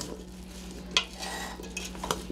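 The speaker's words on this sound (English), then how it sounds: "I take a little bit of sugar and I sprinkle it over the pieces, and then I stir them up" Ginger pieces stirred with a sprinkling of sugar in a pan, giving soft scraping and clinking of a utensil against the pan, with a couple of sharper knocks, close and fairly quiet.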